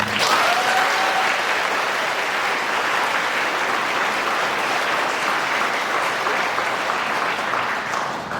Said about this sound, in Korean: 성탄을 준비하신 전리원들을 위해서 박수 한번 칩니다.